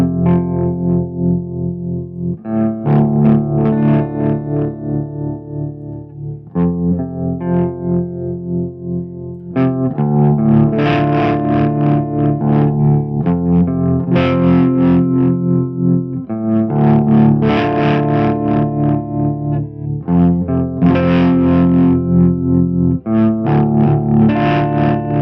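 Sustained electric guitar chords through a Dark Waves tremolo pedal on a slow sine wave, with a gentle, slow pulsing swell in volume, played alone and loud, with a soft wavering shimmer.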